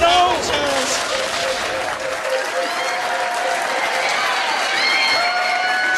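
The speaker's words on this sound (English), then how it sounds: "give him a huge round of applause" Pub quiz crowd at The Granta breaks into steady applause and cheering for the winner, a dense wash of clapping that holds for the full stretch, with voices mixed into the noise.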